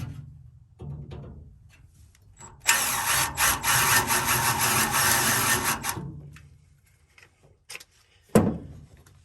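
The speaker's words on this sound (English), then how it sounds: "I'll go with the spot weld driller and drill that out" A spot weld drill grinds into the sheet metal of a 1968 Camaro for about three seconds, loud and harsh, between quieter handling noises and a short knock at the end.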